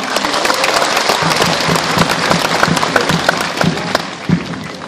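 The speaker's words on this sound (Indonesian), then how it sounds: "Kita beri aplaus dulu untuk mereka semua." Audience applause at an Indonesian Muslim community religious gathering in Daejeon, Korea, with dense, steady clapping from a large crowd that stays loud for about five seconds, with no talk over it.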